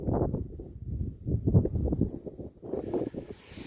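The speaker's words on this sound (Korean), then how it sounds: "바람이 상당히 셉니다, 지금." Strong wind buffeting the microphone in heavy low rumbling gusts, continuous and close, rising and falling in waves.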